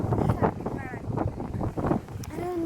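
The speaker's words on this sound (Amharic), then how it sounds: "ወይኔ ንፋሱ ደስ ሲል በጣም" Wind gusts across open countryside, buffeting the microphone in a rough, rumbling rush, with faint voices in the background.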